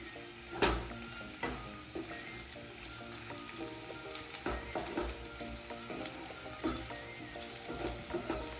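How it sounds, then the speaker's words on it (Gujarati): Turmeric, ginger and a cinnamon stick are stirred in a hot pan of oil and spices for a green pigeon pea dish, a steady close sizzle broken by soft scrapes and knocks of the spoon. "હળદર આદુ અને તજનો લાકડું હવે તેને મિક્સ કરી દઈએ"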